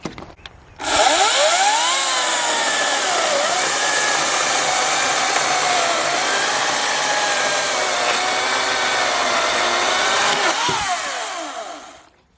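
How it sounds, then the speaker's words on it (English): A chainsaw roars steadily for about ten seconds, its engine pitch wavering slightly as it bites into wood, then cuts off abruptly. "I felt every single tooth hitting that wood."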